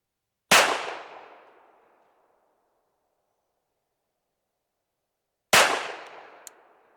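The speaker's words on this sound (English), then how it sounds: "Let's see if we can hit 234 with a ported 4-inch gun." A ported 4-inch GP Arms pistol fires at long range outdoors. Two sharp, loud shots come about five seconds apart, and each rings out into a fading echo, with no talking.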